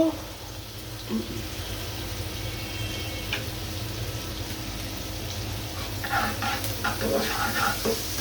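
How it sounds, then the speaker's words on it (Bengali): Onions frying to a light brown in oil for a koi fish curry, a steady continuous sizzle throughout with occasional stirring scrapes and clicks, close and moderately loud with no talk. "এইভাবে পেঁয়াজটা ব্রাউন কালার করে ভেজে নিচ্ছি।"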